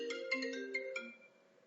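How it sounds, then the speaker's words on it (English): A mobile phone ringtone plays a short bright electronic melody of several quick chiming notes, moderately faint, then trails off into quiet with no talking over it. "my mobile is ringing."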